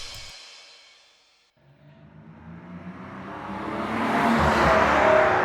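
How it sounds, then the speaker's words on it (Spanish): An old BMW M3 accelerating hard along a town street with a low speed limit, its engine swelling from faint to loud over a few seconds as it draws nearer. "un BMW M3 de los antiguos dándole caña aquí en una calle que tiene que ir a 20"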